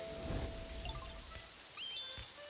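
Rain in the video game Pokémon Pokopia, a soft, steady patter of drops on surfaces under faint chiming game tones, quiet and continuous.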